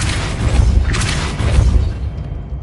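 Depulso force spell cast in Hogwarts Legacy, a loud booming thrust of air with a second surge soon after, heavy and close, fading into a short tail with no talk.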